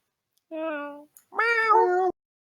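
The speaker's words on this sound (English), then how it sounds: "No, those are meows." A cat lets out two clear, close meows, a shorter one followed by a longer, rising and falling call, against silence.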